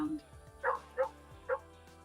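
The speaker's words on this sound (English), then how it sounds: "Bark like a dog." A synthetic dog bark played by Google through the Snap Core First speech app, three short distinct barks spaced about a third of a second apart, moderately close and alone.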